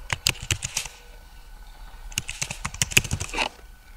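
Quick bursts of typing on a computer keyboard, close and fairly quiet: a flurry of clicking keystrokes, a pause of about a second, then a second longer flurry.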